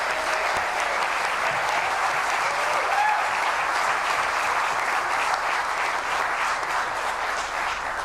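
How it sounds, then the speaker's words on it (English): An audience at a mayoral forum in a library gives a steady, dense round of applause, many hands clapping continuously at an even, fairly loud level for the whole stretch, with no talk over it. "Give them a round of applause."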